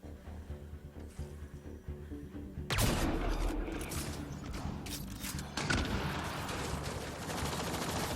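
Enemy gunfire in the shooter game Mass Effect: Andromeda, a sudden loud burst of shots followed by a rattling volley and a second burst, over a faint background hum.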